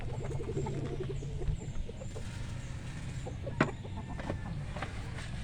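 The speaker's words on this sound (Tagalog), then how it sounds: "Pakain si Lilit ng kanyang chicken." Rhode Island Red chickens with fertile eggs, soft clucks and murmuring calls close by in a busy yard, one sharper squawk standing out midway over a steady background din.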